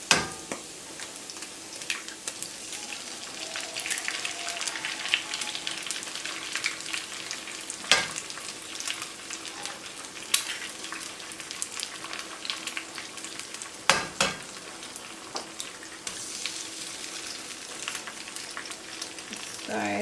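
Eggs frying in a hot pan while cooking pad see ew, a continuous crackling sizzle with occasional sharp utensil clanks and faint bits of talk underneath.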